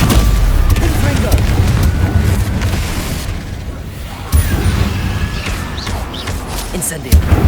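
Explosive Confringo spell blasts in Hogwarts Legacy, heavy booming impacts repeating through continuous loud combat noise, with sharper bursts near the middle and end.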